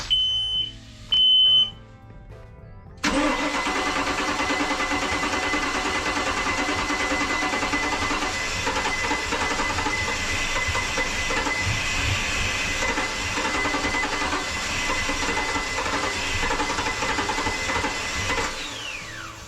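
Starboard Volvo Penta boat engine cranking and then running, a short electronic chirp and beeps first, followed by a loud, steady mechanical drone that holds until near the end with no talking.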